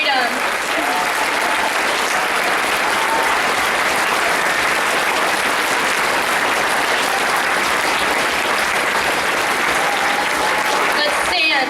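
Sustained applause fills a school Veterans Day program, dense steady clapping from a large audience lasting throughout at even loudness, with a brief voice near the end.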